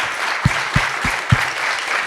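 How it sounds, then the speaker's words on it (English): An audience applauds a panel at a talk on mining hardware, a steady patter of clapping with a few louder individual claps standing out near the front. "I'd love to invite you all to give a round of applause to the very excellent panel next to me"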